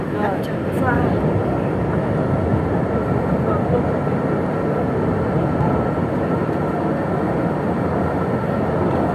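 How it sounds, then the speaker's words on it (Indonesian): KRL commuter train running toward Prambanan station, a continuous loud low rumble and rolling rail noise with a faint high squeal near the start, steady throughout with no voices heard. "sesaat lagi kereta tiba di stasiun Prambanan"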